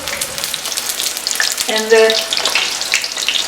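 Eggplant slices frying in hot oil in a home kitchen, a continuous close crackle and sizzle with a brief spoken word partway through.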